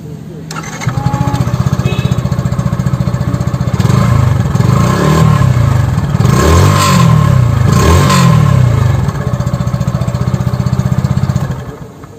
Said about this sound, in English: let's again start this bike, and you need to just listen the sound of this bike